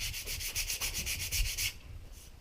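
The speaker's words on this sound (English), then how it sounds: "I'll sand a little more off of the one side here" Sandpaper rubbed back and forth over a wooden rifle stock, about a dozen steady rhythmic strokes close up, then a quieter pause near the end, with no talk.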